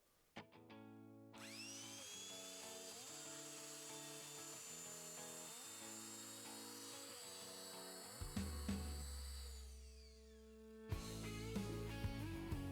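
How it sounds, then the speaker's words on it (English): A power drill whines at a steady high pitch, then bites into wood with a deeper grinding rumble before stopping and restarting briefly. "All we have to do is turn it on and drill our hole."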